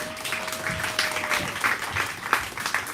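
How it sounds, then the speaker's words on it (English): An audience at a live poetry event gives a steady round of applause, a continuous wash of clapping at moderate volume with no voices over it. "Give all of them a round of applause, please."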